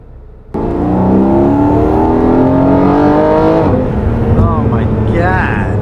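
A naturally aspirated 4-liter Porsche Boxster engine snaps into a loud, close rev after a short quiet idle, holding a strong rising roar for about three seconds before easing off into lighter revving blips.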